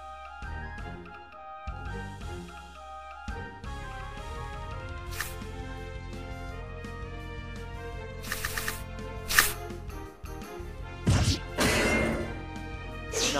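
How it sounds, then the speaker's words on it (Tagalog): A shell breaks during an Axie Infinity arena battle, with sharp crashing and whacking hits cutting across layered game music and chimes, a few bright impact bursts standing out near the end. "nabasag pa yung shell niya"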